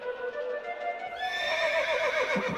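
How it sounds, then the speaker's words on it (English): A horse neighs loudly and alone, a long rising then falling whinny with a faint clip-clop of hooves near the end, evoking Caligula's racehorse Incitatus in ancient Rome. "With his racehorse, Incitatus."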